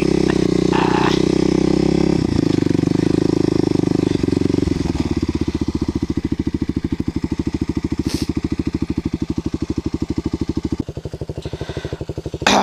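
A Kawasaki KLX250SF motorcycle runs close by after sitting all winter, first a steady loud drone, then a rapid chugging idle thump that carries on with a brief louder blip near the end.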